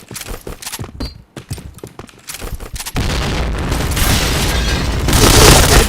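A grenade blast in the shooter game PointBlank erupts about halfway through, a sudden loud boom that rolls into a sustained roar of debris and noise, preceded by a rapid run of thumping gameplay footsteps and impacts.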